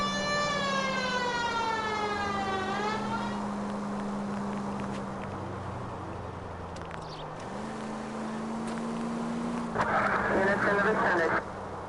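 A video game vehicle siren wails loud and steady, its rising and falling sweeps giving way to a held tone that shifts pitch, with a burst of bright noise near the end over a constant game soundscape.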